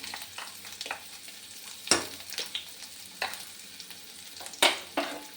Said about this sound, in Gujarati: થોડીક ડુંગળીને આપણે સાતરી લઈશું પહેલાં.